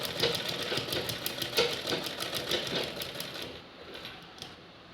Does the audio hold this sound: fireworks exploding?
no